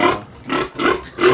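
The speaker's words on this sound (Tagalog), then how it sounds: "nagsilang na po ang aking inahing baboy" A sow that has just given birth to a litter of healthy piglets on a backyard farm grunts and oinks in three or four short, close bursts with brief pauses between them.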